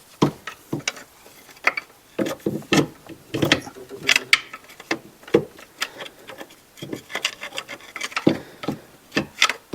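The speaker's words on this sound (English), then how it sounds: "I'm going to try to wiggle this out of here once." A power steering pump on a Toyota FJ is worked loose in the engine bay, giving repeated metallic scrapes, rubs and ratcheting clunks in an uneven rhythm, close and fairly loud, with no talking.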